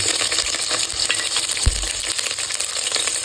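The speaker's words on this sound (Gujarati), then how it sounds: "તેમાં આપણે નાખી દઈશું કાપેલા મરચાં" Chopped green chillies and curry leaves sizzle and crackle steadily in hot oil while cooking Gujarati muthiya, a loud continuous frying hiss with a soft thump of ingredients dropping into the pan midway.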